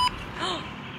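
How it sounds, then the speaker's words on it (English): A short electronic beep sounds at the start, followed by a faint tonal blip amid low room noise. "Why does that keep beeping?"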